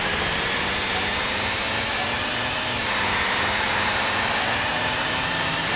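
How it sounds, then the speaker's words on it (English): A V10 Formula One car's engine from a 1996 console racing game gives a thin, steady synthetic drone, loud and close, holding a flat tone with a few brief shifts. "But that engine sounds rubbish, isn't it?"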